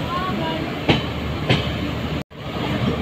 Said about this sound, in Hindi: आ चुकी है हमारी ट्रेन जो कि पूरी 35 मिनट डिले आई है